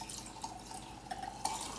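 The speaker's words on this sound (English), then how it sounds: "let's pour this in our glass" Watermelon drink poured from a glass pitcher into a chilled glass, a soft steady trickle with small splashy drips and a brief brighter splash near the end, faint and close.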